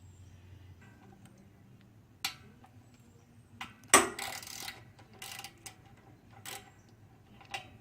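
Ratchet with a star socket backing out housing screws on a Briggs & Stratton generator: a few sharp metallic clicks and clunks spread over quiet, close-up workshop handling, with no talk.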